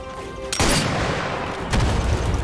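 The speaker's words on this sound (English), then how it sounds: "Explosions." Explosions in the VR shooter Sniper Elite VR, two loud booming blasts a second apart, each bursting in abruptly and rumbling on, with no talking.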